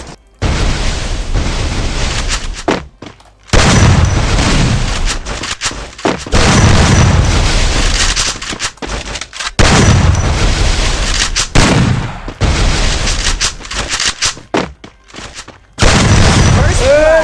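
Bursts of loud, booming gunfire and explosions from the video game Free Fire come in repeated clusters separated by brief quiet gaps, close and punchy throughout.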